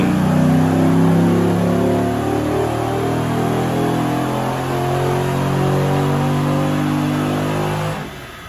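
A 6.1L HEMI V8 roars at sustained high revs during a wheel-horsepower dyno pull, loud and steady for several seconds before the engine note drops off abruptly at the end, with no voices.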